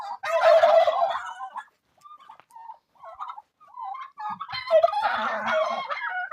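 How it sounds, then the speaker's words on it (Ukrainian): Turkeys gobble in two loud bursts of rapid, warbling calls, with quieter clucks and soft bird noises in between. "От, а це індики."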